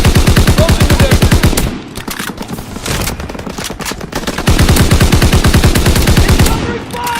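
Machine-gun fire in Call of Duty WW2 multiplayer, loud rapid bursts of automatic shots in two long volleys separated by scattered distant reports and battle noise.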